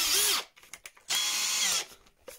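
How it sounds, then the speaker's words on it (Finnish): A power drill with a larger bit bores into a plastic tube of a Savage Gear 32 cm LT Roach lure body. There are two loud, close whirring bursts separated by a short pause with small handling clicks. "nyt porataankin isommalla poranterällä reikä täältä toisesta päästä tätä muoviputkea"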